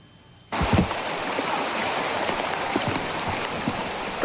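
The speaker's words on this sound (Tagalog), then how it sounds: "Rumaragas ang tubig na ito mula sa bundok sa Barangay Benito Norte, Aringay, La Union" Flash-flood water from the mountain in Barangay Benito Norte, Aringay, La Union, bursts in suddenly after a quiet moment and keeps roaring as a loud, steady, broadband rush with occasional splashes.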